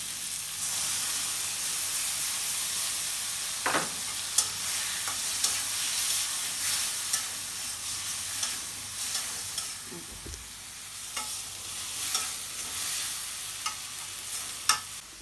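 Curry spice paste sizzles and fries steadily in a pan, with a few sharp scrapes and clinks of a spoon stirring it over a continuous frying hiss; no voices.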